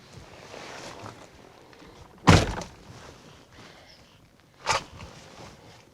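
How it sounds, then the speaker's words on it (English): A handgun fired from inside a vehicle gives a sharp, loud bang with a short boomy tail. A second, weaker impact-like crack follows about two seconds later, both over quiet ambient background. "shoot one shot out of here and see what happens"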